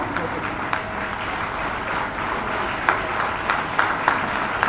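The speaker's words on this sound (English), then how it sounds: "Let us show our appreciation with a round of applause." An audience claps steadily at a school centenary ceremony, a dense, even wash of applause with a few sharper claps standing out near the end.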